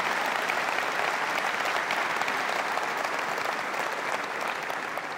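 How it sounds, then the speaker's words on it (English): A conference audience at a large tech industry general session gives sustained, dense applause, loud and steady throughout with no talking over it. "let's give them a warm round of applause for their efforts at transforming Hertz"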